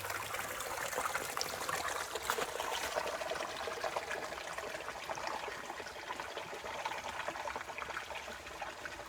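Continuous rushing and trickling of water flowing in a creek, steady and fairly close, with no voices.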